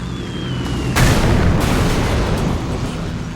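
A bomb explosion in the aerial combat video game Wings of Steel: one heavy, loud boom about a second in, over a steady background of engine drone, then a long rumbling decay.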